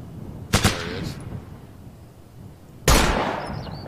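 Gunfire in the combat video game Operation Flashpoint: Dragon Rising, with a sharp double shot of machine gun fire, then a second loud burst a couple of seconds later that trails off into a lingering echo.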